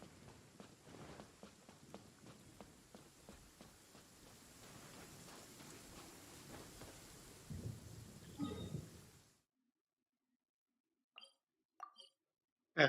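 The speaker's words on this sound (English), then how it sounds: "I love listening to the rain from the courtyard." Rain pours steadily in a courtyard in Genshin Impact, with soft plops and a low thunder rumble swelling near the end before the sound cuts out, followed by a few faint isolated game sounds.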